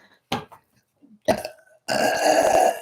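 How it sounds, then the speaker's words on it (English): Three loud burps from a psychic during a live reading, the last one long and drawn out, with short pauses between them and no talk over them. "Spirit makes me burp."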